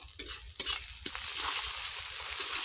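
Spices, tomato and potato sautéed in a hot pan, with a few scraping stirs at first and then a loud, steady hiss of frying that holds close and even to the end.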